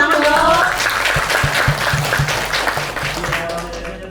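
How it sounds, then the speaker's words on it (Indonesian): Audience applause at a university talk show podcast for biology education students, a brief burst of clapping that fades steadily over about four seconds, with voices and low background hum underneath. "Tepuk tangan dong."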